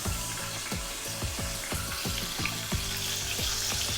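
Chicken cutlet frying in hot oil gives a steady, close sizzle with repeated crackling pops and spatters at an even rhythm throughout.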